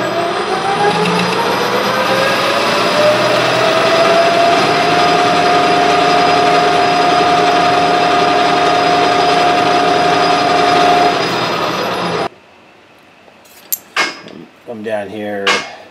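A metal lathe faces off a saw-cut metal piece, giving a loud steady grinding whir with a sustained ringing tone that cuts off abruptly near the end, followed by quieter rustling and a voice.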